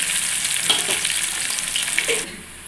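Chopped onions frying in oil with cumin, mustard and fenugreek seeds give a loud, steady, close hiss of sizzling with faint stirring, which drops off sharply near the end; nobody speaks.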